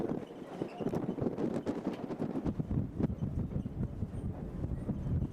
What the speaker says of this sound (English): Very windy outside there.